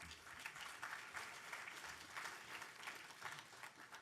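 Audience applause after a presentation at a hackathon closing ceremony in New York, a steady dense wash of many hands clapping that is fairly quiet and distant, holding evenly throughout.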